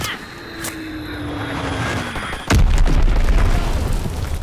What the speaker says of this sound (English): Enemy recon aircraft in the air.